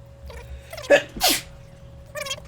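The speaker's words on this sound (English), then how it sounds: "A little bit of a sneeze there." A single sharp human sneeze, preceded by a short breathy intake and followed by a quieter second burst, close and clear over a faint background hum.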